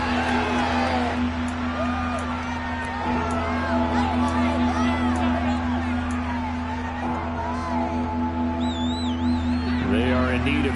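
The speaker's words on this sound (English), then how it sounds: "Plenty of shouts from this crowd as they watch the replay." Stadium crowd in the Madden NFL 23 video game shouting and whooping during a replay, a steady dense roar with scattered yells and cheers rising above it, plus a sustained tonal hum running underneath throughout.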